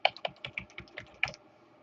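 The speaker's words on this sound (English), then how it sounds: "I'm going to press my tab key to get to the next column, and I'll type in description here." A short run of close, fairly quiet keystrokes on a computer keyboard, a tab key press followed by typing into a spreadsheet, about ten distinct clicks with no voice.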